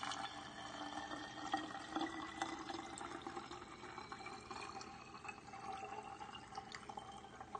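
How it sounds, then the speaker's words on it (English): Water is poured into a 16-ounce spray bottle, a continuous soft trickle and fill with a gently rising pitch as the bottle fills, close and quiet, with no talking. "So we're just gonna add our water here."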